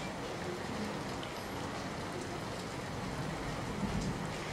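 Steady, dense rainfall pours down continuously in Botad, Gujarat, a broad hiss of heavy rain flooding the roads, with no voices.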